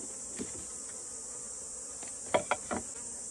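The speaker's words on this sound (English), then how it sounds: "You're gonna shake these bees off, either put them in another box" Bees hum steadily around an opened hive during a beekeeping hive transfer, a faint continuous buzz with a few brief knocks and taps near the end.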